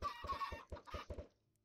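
A chicken in the Minecraft video game gives a quick string of soft, low clucks in uneven bursts, faint and alone, tapering off at the end.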